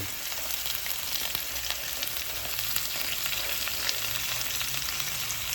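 Garlic heads and rosemary sizzle steadily in a hot pan with white onion, a constant close frying hiss without any talk.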